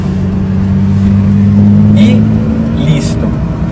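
A car climbs a sloped bridge in slow traffic, its engine humming steadily and loudly from inside the cabin while someone talks over it.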